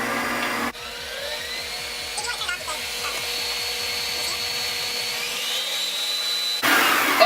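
A stand mixer turns cookie dough with a U-shaped paddle at low speed, giving a steady motor whir with rhythmic chugging thumps that stops near the end. Background noise returns once it falls quiet.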